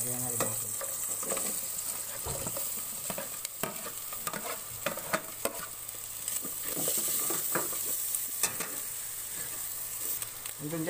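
Sliced meat for sisig sizzles and fries steadily in a pan, with repeated stirring scrapes and clatters throughout, fairly close and continuous with no talking.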